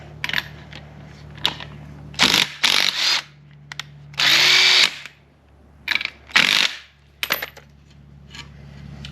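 Short bursts of a power tool zipping a new nut onto the alternator pulley stud of a Fiero, several whirring runs of a second or so, interspersed with metallic clinks and a steady low hum, no talk.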